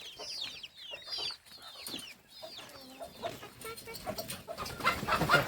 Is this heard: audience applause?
no